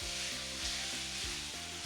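Steady sizzling of food frying in hot oil, a continuous crackling hiss with a low rhythmic churning underneath, close and fairly loud, no voices.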